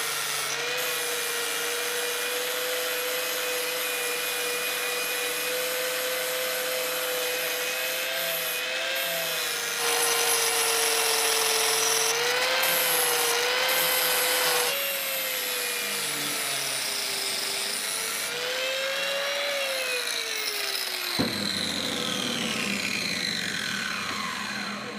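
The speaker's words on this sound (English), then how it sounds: "So I'll get the grinder and I'll start working away at this." Angle grinder working welds on steel tube fender flares for a Jeep XJ, a steady loud whine that shifts pitch as the disc bites and eases, continuous for the whole stretch with no talking.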